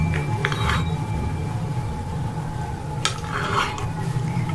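Fruit chaat mixed in a bowl, with light clinks and scrapes of a utensil over a steady background hum, a couple of sharper clatters standing out.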